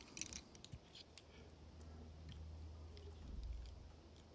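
Scissors trimming marabou to uneven lengths on a Dahlberg Diver fly, giving a few faint, close snips near the start before a quiet stretch.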